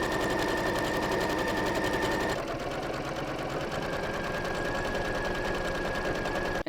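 A sewing machine stitching a pair of pants runs continuously at a fast, even whirring pace, loud and close. The tone shifts slightly partway through.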